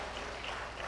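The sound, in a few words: audience clapping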